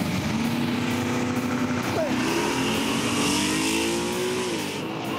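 Drag race cars roar at Bandimere Speedway, a loud sustained engine drone with rising and falling pitch as they run, heard alone and fairly close for several seconds.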